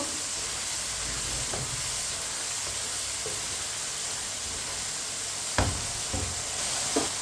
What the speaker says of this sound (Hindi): दो मिनट के लिए मैंने चम्मच चलाते हुए पका लिया गोभी और मटर को।